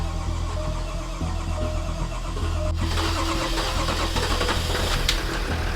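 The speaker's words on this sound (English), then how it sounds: "start the engine" A flooded Range Rover's engine cranks and then catches, settling into a steady idle, loud and close with no talk.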